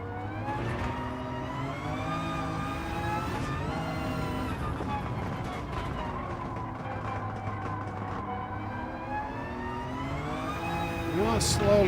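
A race car engine in Gran Turismo 7 revs and holds a high, harmonic whine that rises and falls with throttle and gear changes, steady and continuous throughout, with a voice speaking briefly over it.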